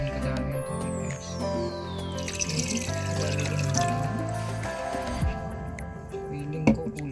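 Water is poured into a container of salt to make brine for salted eggs. A steady stream runs with a gliding pitch, followed by a few light clinks and drips in a quiet indoor room.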